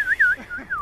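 A person whistles a short, wavering tune, clear and close, gliding up and down in pitch over under a second.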